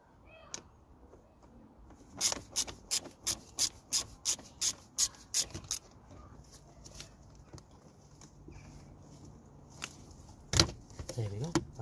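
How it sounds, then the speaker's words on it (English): A flathead screwdriver works a jubilee hose clamp on an air intake pipe of a BMW 320d E90 N47 diesel engine, giving a run of about a dozen evenly spaced close scraping clicks, then a few scattered knocks and rustles. "we're gonna loosen the jubilee clamp here. We're using a flathead screwdriver."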